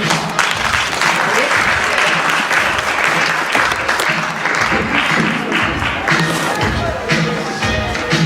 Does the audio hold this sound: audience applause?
yes